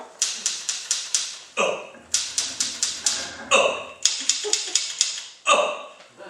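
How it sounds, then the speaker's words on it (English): Typewriter clattering in quick bursts of sharp key strikes, each run ending in a pause or carriage-return thunk, close and fairly loud over a faint murmur of voices. "You hear the typewriter going?"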